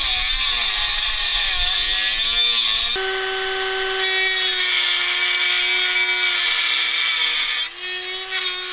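A power tool grinds down the lip of a brake drum on a 1979 Mazda RX-7, a steady loud whine that shifts pitch midway and dips briefly near the end, with no talk.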